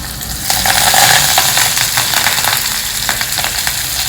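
Cumin seeds, grated ginger, chopped green chilli and curry leaves fry in hot oil with a loud, continuous sizzle, punctuated by repeated crackles and stirring scrapes close by.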